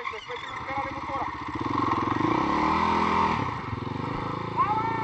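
An off-road motorcycle engine at the Kostenec offroad fest revs and labours close by, rising and falling in pitch, with people talking over it throughout.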